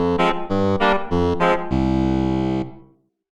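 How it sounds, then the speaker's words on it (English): A dry, programmed organ synth patch in Reason 6 plays a few short staccato chords followed by one sustained chord that fades out, with no reverb, loud and close. "I'm going to go down to an organ sound that I've programmed here"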